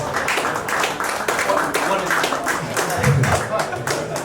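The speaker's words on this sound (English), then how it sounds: "give Jason a round of applause" An audience claps for a man introduced on stage at a collector's night event, dense overlapping claps filling the room, with voices talking underneath.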